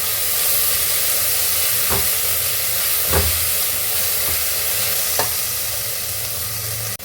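Mint leaves sizzle and crackle steadily in a hot pan, with a few soft clinks and stirring knocks spaced out over the sizzle.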